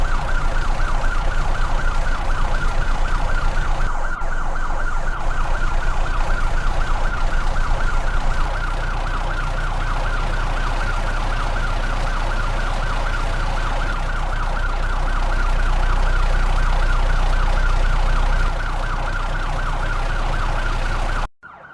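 Ambulance siren wailing continuously and loudly for the whole stretch, a steady repeating two-tone pattern with no talking, likely a cartoon-style vehicle sound.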